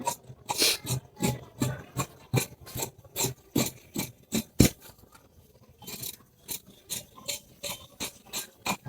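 Scissors cut through blouse fabric with a rapid series of crisp, rhythmic snips and rasping slices, close and clear with a short pause partway through, no talking.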